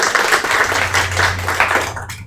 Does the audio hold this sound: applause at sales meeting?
yes